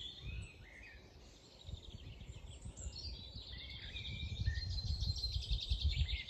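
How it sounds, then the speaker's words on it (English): Morning birdsong outdoors, several birds chirping and trilling in overlapping high calls, moderately distant, over a soft steady background murmur that builds slightly toward the end, with no voices. "listen to the birds"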